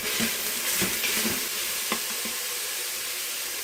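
Carrots and garlic frying in a pan, a continuous bright hiss of sizzling with a few quick stirring scrapes near the start.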